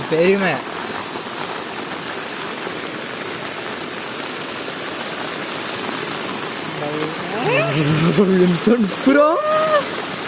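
Heavy rain falls in a hilly forest area at Maruthom Thattu viewpoint in Kasaragod district, Kerala, a steady broad hiss running throughout, with a person speaking over it near the start and again toward the end.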